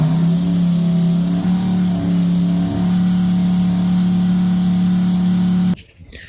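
A car engine runs steadily at a low, droning idle with a faint rise in revs, close by, then cuts off abruptly near the end.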